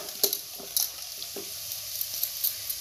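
Tempering spices sizzle in hot oil for a radish greens dish, a soft steady fry with a few sharp clicks of stirring, close and moderately quiet, with no talking.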